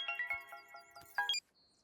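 A mobile phone rings with a bright, chiming melodic ringtone, a short run of clear tones that cuts off abruptly and leaves a faint hum.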